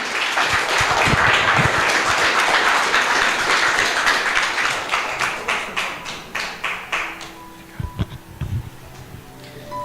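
A church congregation gives a pastor a strong round of applause, loud dense clapping that thins into scattered individual claps and dies away near the end.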